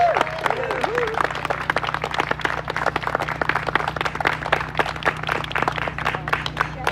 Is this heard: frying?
no